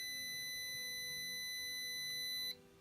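A steady electronic buzzer from an Arduino ultrasonic-sensor alarm sounds continuously at a fixed pitch for a couple of seconds, then cuts off abruptly, leaving faint background hiss.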